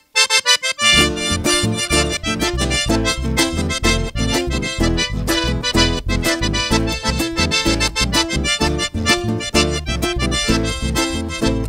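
A live chamamé band plays a dense, driving accompaniment with steady rhythmic strumming and bass, loud and continuous without singing in this stretch.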